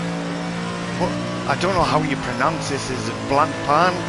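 A Mercedes AMG GT race car in the Assetto Corsa Competizione racing game at Spa, engine droning steadily with repeated revving rises and gear shifts, heard under someone talking throughout.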